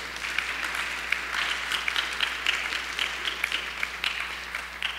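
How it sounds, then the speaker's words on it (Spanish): A church congregation applauds during a bilingual service, a dense and steady patter of many hands clapping for several seconds with no talk over it. "Dele un aplauso al Señor"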